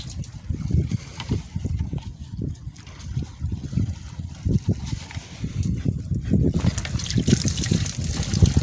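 Water trickles and splashes steadily during the cleaning of a wooden boat, with close, uneven dribbles and splashes that grow a little louder near the end. Faint voices speak in the background.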